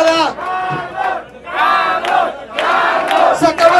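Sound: crowd applauding and cheering at a party

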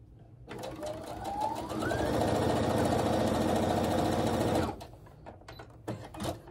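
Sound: sewing machine stitching quilt block pieces

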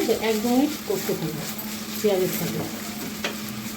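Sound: ginger garlic paste frying and being stirred in oil

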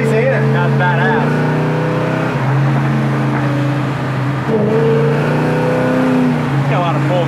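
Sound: 1970 Chevrolet Chevelle engine accelerating on test drive

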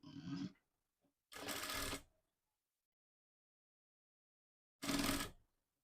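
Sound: sewing machine stitching satin lining of a frock

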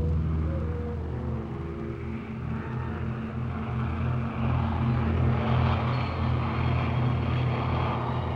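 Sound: airplane

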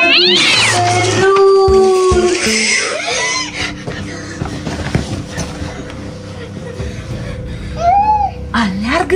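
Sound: cat meowing, cartoon cat

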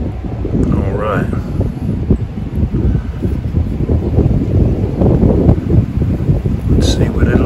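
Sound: wind

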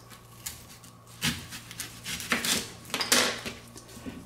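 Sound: knife cutting the ends off onions

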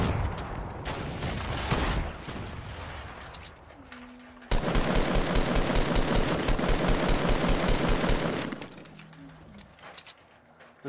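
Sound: gunfire in video game Fortnite

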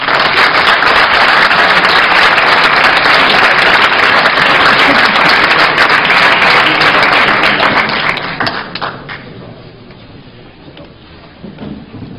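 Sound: audience applause for the choirs

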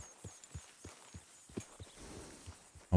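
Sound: horse hooves in a video game

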